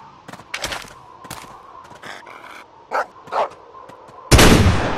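Dog barking in Deer Hunter 2017 during a Colorado varmint hunt: a series of short, sharp barks spaced unevenly, followed by a loud, sustained gunshot-like burst at the end, with no talk.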